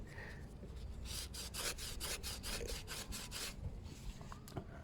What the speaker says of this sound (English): If I get a slightly abrasive pad,